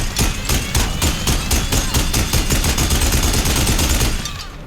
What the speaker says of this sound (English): Keep shooting into that area!